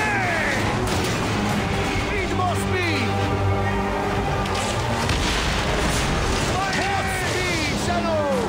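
Ship cannon fire during a naval battle in Assassin's Creed Origins, repeated booming blasts over constant rushing sea and wind noise, loud and continuous, with voices shouting in the mix.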